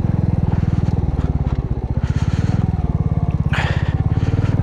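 A motorcycle engine runs steadily while riding up a snowy high mountain road from Lachung toward Mount Katao, with a close, continuous rhythmic thrum and brief rattling bursts.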